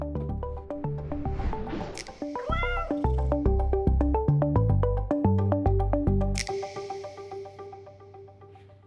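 A cat meows several times in quick succession, close and clear, with drawn-out, wavering cries and no voices around it.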